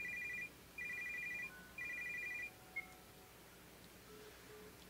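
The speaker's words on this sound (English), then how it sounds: "Okay, shut up, phone." A video game telephone rings in three electronic bursts, followed by a short blip and then quiet, faint and alone with no talking.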